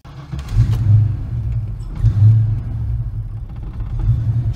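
A Mustang engine with swapped GT40 heads idles roughly at start with a deep, uneven rumble, sputtering and surging irregularly up close, with no voices.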